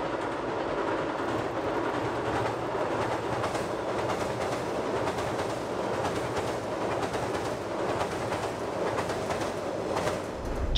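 Super Yakumo limited express train in a mixed-livery formation pulling out of Izumoshi station, a steady loud rumble of wheels and cars rolling continuously throughout with faint rhythmic clatter.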